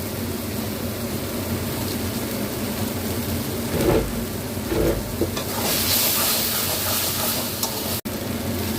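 A dish stirred in a pan as it dries, continuous loud sizzling and frying hiss with occasional heavier scraping strokes, ending with a brief sharp click.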